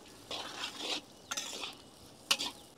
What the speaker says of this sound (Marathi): आपण आता कांदा व्यवस्थित पूर्ण लाल होतो व्यवस्थित परतून घेऊ।